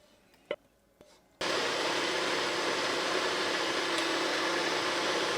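A blender purees cooked methi chicken curry ingredients. Two soft knocks come first, then the motor starts abruptly and whirs loud and steady to the end.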